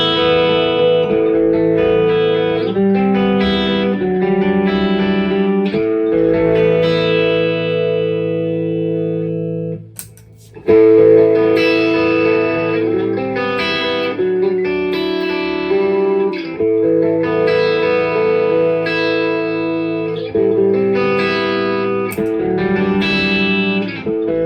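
An electric guitar played through a Kemper amp profiler rings out in sustained, effected chords with distortion and reverb, loud and steady, briefly dropping to a pause midway before resuming, with no voice present.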